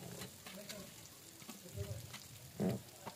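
Chopped onion sautéing in hot oil with cumin and curry leaves, a soft steady sizzle with light stirring scrapes and a brief louder clatter near the end, close by.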